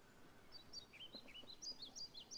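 Birds on a balcony in the video game The Black Mirror, a string of quick high chirps and tweets repeating over faint background ambience, fairly soft and slightly distant.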